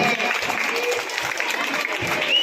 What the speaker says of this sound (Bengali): ছেলেমেয়েরা তোমরা হাততালি দাও